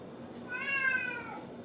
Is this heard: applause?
no